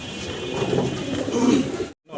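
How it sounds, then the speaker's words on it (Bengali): Two large, active pigeons at a breeder's farm in Mirpur 12 give low, throaty coos in a steady run. The sound is close and moderately loud, then cuts off briefly near the end. "খুব সুন্দর 2 পিস কবুতর দেখাচ্ছি, বিশাল সাইজের। দেখেন অস্থির ডাকাডাই করতেছে"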